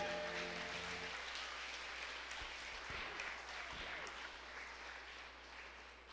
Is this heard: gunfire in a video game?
no